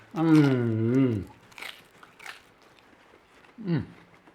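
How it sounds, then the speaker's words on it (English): A few short, crisp crunches from biting into a Dutch baby pancake topped with jam, heard after a drawn-out vocal sound and spaced out over quiet moments, fairly close. "Crunch."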